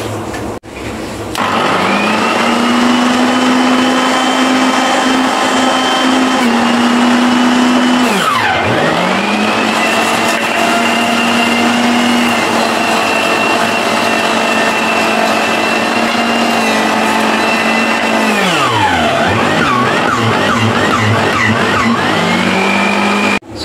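An electric juicer grinds pineapple, lemon and ginger with a loud, steady motor whine, its pitch dipping twice as chunks of fruit are pushed in and the load rises, then recovering; no one talks.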